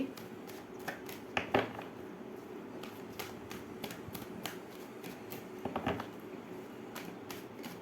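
Tarot cards are shuffled by hand, a run of quiet, crisp riffling snaps and flicks in irregular bursts, close and soft with no talking.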